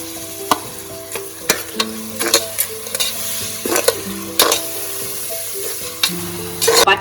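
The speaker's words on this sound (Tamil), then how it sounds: "பச்சை வாசம் போகிற வரைக்கும் ஒரு நிமிஷம் வதக்கிக்கலாம்." Ground mint paste sautéed in a pan with tomato for mint rice, soft sizzling broken by sharp spoon clacks and scrapes against the pan at an irregular pace, close and alone.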